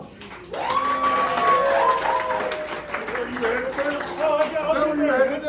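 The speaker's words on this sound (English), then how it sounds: "How about a round of applause for Cherie?" A small audience at an evening show breaks into applause after a brief quiet start, with voices calling out and talking above the clapping as it carries on steadily.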